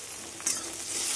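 Tomatoes dropped into a pan of frying onions give a hissing sizzle that swells briefly, then settles into a steady bright fry.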